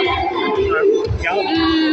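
A noisy crowd fills the CDC PopCon event hall with dense, continuous babble, one nearby voice standing out above the general din.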